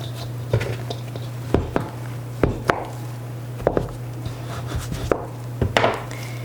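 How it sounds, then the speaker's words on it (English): Sharp chops of a bowl scraper through homemade pizza dough on a board, landing as several distinct, close, fairly loud knocks at uneven intervals over a low steady hum. "So I just use a bowl scraper and cut it like I would like a pizza."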